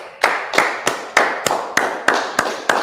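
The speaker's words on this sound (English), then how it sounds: "Let's clap it up." A small group clapping in unison at a gathering: about nine sharp, evenly spaced claps, each followed by a short ring of the room, loud and close with no talk over them.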